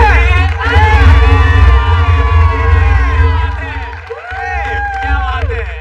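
A live comedy-show audience cheers and claps loudly for a final act, a dense crowd roar with whoops, while voices with strongly pitched, musical-sounding speech ride on top throughout.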